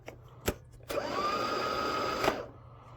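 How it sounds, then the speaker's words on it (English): An electronic handheld sprayer whirs steadily for about a second and a half at close range, with a sustained motorized hum that starts abruptly and cuts off, preceded and followed by a few sharp clicks. "It's a electronic handheld sprayer."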